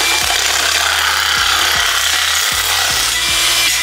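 A Makita DJN161 cordless nibbler cuts through roofing sheet metal with a loud, continuous, harsh buzzing chatter close by, its motor pitch dipping and recovering several times as the cut progresses.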